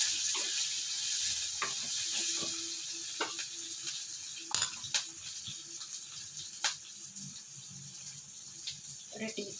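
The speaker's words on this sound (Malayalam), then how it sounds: "കുറച്ച് ചെറിയ ഉള്ളി അരിഞ്ഞതും കൂടെ ഇട്ട് കൊടുക്കാം. നന്നായിട്ടൊന്ന് വാട്ടിയെടുക്കാം." Chopped small onions sautéing with curry leaves in a pan: a soft hissing sizzle underneath scattered clicks and scrapes of stirring, fairly quiet and close.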